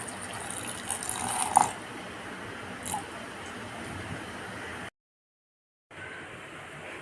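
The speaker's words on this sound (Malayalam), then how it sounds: "ഇനി ഇതിലേക്ക് ആവശ്യത്തിന് വെള്ളം ഒഴിച്ചു കൊടുത്തിട്ട് ഇതൊന്ന് അരച്ചെടുക്കാം" Water poured from a container onto ground coconut and small onions in a mixer jar before grinding for a homemade drumstick curry, a soft steady trickle with a couple of brief louder splashes, then a short silence.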